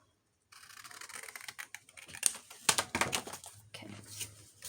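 Scissors cutting paper along a marked line for a junk journal, a run of close, crisp snips and rustling paper after a brief silence.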